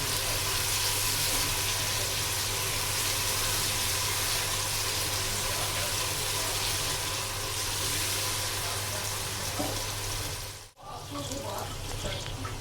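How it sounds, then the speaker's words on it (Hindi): Garlic ginger paste frying in a pan while making dhaba-style daal mash, a steady broadband sizzle that continues throughout with a brief dip near the end and a low hum underneath. "1 चम्मच हम इसके अंदर डालेंगे लहसुन अदरक का पेस्ट। अच्छी तरह हम इसको भून लेंगे"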